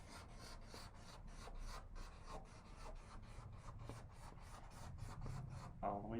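A red marker squeaks and rubs across a board in quick repeated strokes, a faint, rhythmic scratching that continues steadily.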